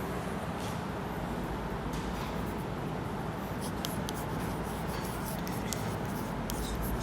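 Pen scratching steadily across paper during a class notice-writing lesson, continuous close rustle and scrape with faint clicks, no talking.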